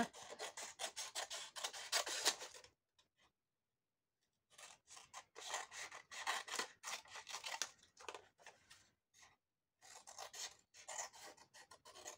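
Scissors snip through paper while a junk journal tag is trimmed, a close run of rapid rasping cuts in bursts, broken by short pauses of silence.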